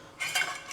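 A metal frying pan is handled in a home kitchen, giving a short burst of clinking, scraping metallic clatter close by with no voices.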